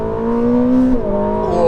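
A Ferrari SF90 XX hybrid with a turbocharged 4-litre V8 and three electric motors accelerates hard on a wet Fiorano track, a loud steady engine tone climbing then dropping sharply at a quick gearshift before pulling again, close and with no talk.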